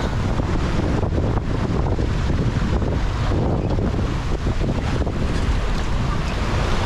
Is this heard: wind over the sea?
yes